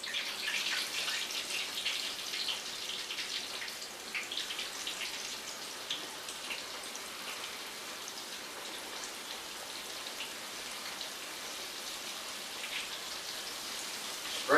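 Grease sizzles in a home kitchen frying pan with a soft, steady hiss and scattered fine crackles, faint and even throughout, ending with a brief louder pop.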